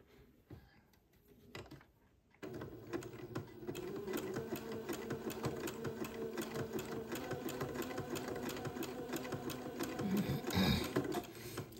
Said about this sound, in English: start zigzagging the lace together